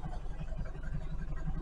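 A Subaru Legacy engine idles with its catalytic converters removed, giving a low, quiet, regular throb that pulses evenly throughout, with faint speech and background murmur mixed in.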